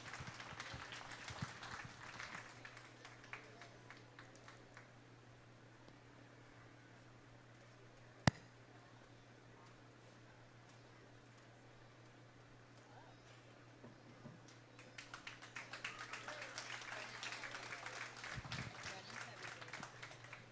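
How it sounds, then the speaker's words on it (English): Audience applause at a county fair dairy steer show, a crowd clapping near the start and again more strongly toward the end, with an announcer talking over a quieter middle stretch. "Let's give them another round of applause."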